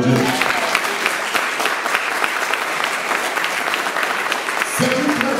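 A church congregation applauding together: dense, sustained clapping fills the whole stretch at a steady loudness, with a few voices rising briefly at the start and end.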